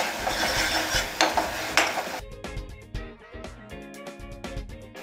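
Punjabi-style mint chutney with a pinch of dried fenugreek frying in ghee in a pan, with loud scraping and stirring for the first two seconds, then softer clinks and utensil taps against the pan over a light sizzle.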